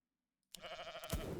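A sheep bleats in the video game Legion TD 2, a single short bleat that starts abruptly after a near-silent opening, with a brighter burst following close behind.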